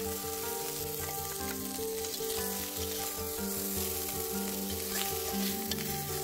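Small fish frying in a pan of hot oil for a jute-leaf fish curry, giving a steady, dense sizzle with crackling throughout, close and continuous.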